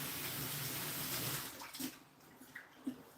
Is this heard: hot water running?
yes